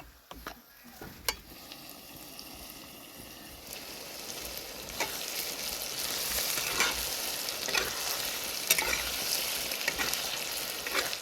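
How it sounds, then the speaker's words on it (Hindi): Onions deep frying for chicken biryani in a pot over an open fire, a strong crackling sizzle that builds and grows louder, with occasional scraping clicks of stirring and no talk. "इन अनियंस को हम अच्छे से फ्राई कर लेंगे डीपली।"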